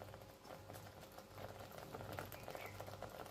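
Coconut masala curry with ground coconut paste and salt, made as a mango dish, bubbles steadily as it boils in the pot, a soft continuous patter of popping bubbles close by, with no talking.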